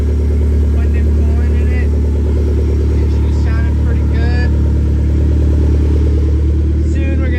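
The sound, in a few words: car engine running, FE3 swap drift car on test drive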